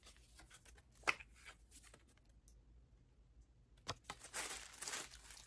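Purple tissue paper crinkles and rustles softly as it is unwrapped from around a Coach wallet: faint, close, irregular rustling with a few sharper crackles and quiet gaps in between.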